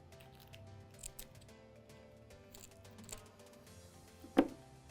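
A few quiet scissor snips through dried flowers and crisp rustles, ending in one sharper cut, over faint background hum with no talking.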